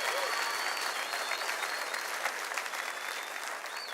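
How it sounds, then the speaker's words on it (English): Steady applause from a large church congregation, dense and sustained throughout without pause, fairly even in loudness with a slight taper near the end. "Let's clap one more time because that's unreal"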